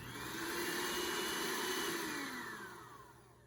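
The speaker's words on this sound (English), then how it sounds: "We're going to use an electric mixer for that." An electric mixer whipping egg whites for beignets, a steady motor whir whose pitch slowly slides as it runs, moderately loud and alone for a few seconds before easing down.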